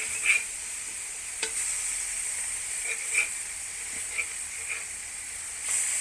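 King fish (anjal) slices frying on a hot tawa pan give a steady, quiet sizzle and hiss, with a few soft scrapes and taps scattered through, no voices.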